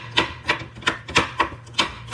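Garlic is chopped on a board in a steady rhythm of about eight close, crisp knife strikes, each a short thud against the wood, with no voices.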